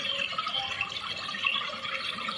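Water from a waterfall rushes steadily as a soft, continuous hiss with faint droplet-like patter, even and unbroken in a calm setting.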